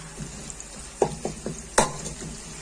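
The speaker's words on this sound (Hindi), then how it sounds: "1 मिनट अदरक लहसुन को फ्राई कर लूंगी।" Garlic paste and long-cut ginger frying in a pot, with a low sizzle broken by a few sharp spoon scrapes and knocks against the pot, close and fairly quiet.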